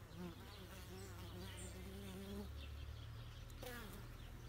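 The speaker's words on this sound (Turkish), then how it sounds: "Hala dolanıyor zaten burada arı." A native honeybee flies close by while bringing in pollen, making a faint, wavering buzz that shifts pitch as it circles.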